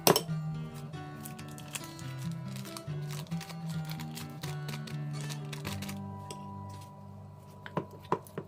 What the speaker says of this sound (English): So just making sure that I mix everything up.